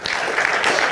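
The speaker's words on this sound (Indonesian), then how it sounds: "Tepuk tangan boleh?" A brief burst of audience clapping in a lecture hall, dense and even for about a second with no talk over it.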